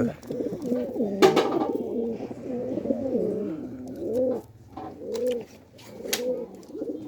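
Pigeons coo close by in repeated soft, throaty rolling phrases, with a sharp clatter early on and occasional short gaps between the calls.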